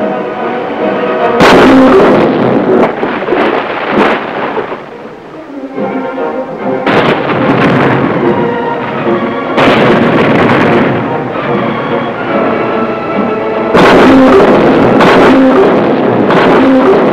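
Heavy naval destroyer gunfire in battle, booming blasts recurring irregularly over a sustained rumbling roar, loud and close throughout.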